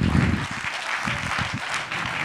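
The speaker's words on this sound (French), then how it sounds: "On peut les applaudir encore" An audience at a live event claps in a steady burst of applause that continues throughout, with a voice faintly mixed in underneath.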